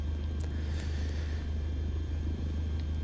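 A Cessna 152 in Flight Simulator 2020 rolls for takeoff at Angers, its engine a steady, droning low rumble that holds evenly throughout, with no voices.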